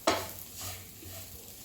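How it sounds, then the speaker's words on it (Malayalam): Tomatoes being sautéed into a masala in a pan make a brief burst of stirring, then a soft sizzle and a few quiet scrapes, heard close up. "അതിൻ്റെ പച്ചമണം മാറുന്നത് വരെ നമുക്കൊന്ന് ഇളക്കി കൊടുക്കണം"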